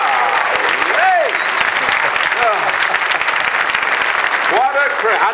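A studio audience at a televised country music talk show applauds in a steady, loud, dense roar of clapping that fills the whole stretch, with voices and cheers rising over it.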